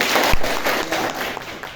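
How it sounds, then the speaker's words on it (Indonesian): A class claps briefly for a correct answer about mosquitoes, a short patter of scattered hand claps from a small group, moderately loud and slightly uneven. "Tepuk tangan dulu untuk ini."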